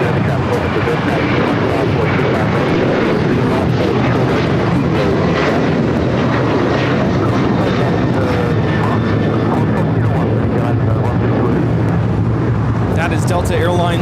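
A Delta Boeing 737-900ER takes off at LAX, its engines roaring loud and steady throughout, with people talking over the noise.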